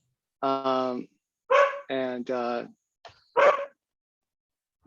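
A pet dog barks in short bursts, several yaps spaced irregularly at moderate distance in a home while people play a card game, with a voice briefly heard.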